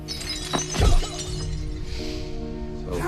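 Glass shatters in a short, bright crash with a scattering of fragments, then settles into a quiet room tone with lingering faint tinkles.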